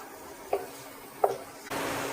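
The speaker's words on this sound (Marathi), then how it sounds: "जरा कांदा परतून घेऊया" Salted onion sautéing in a pan, two distinct spatula knocks about a second apart over a faint background, then a steady hiss of frying that rises near the end.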